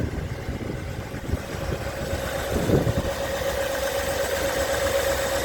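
A 1958 Edsel V8 engine idles steadily, a close, even low rumble with a soft rhythmic lope throughout. There is one brief louder swell midway, and no talking.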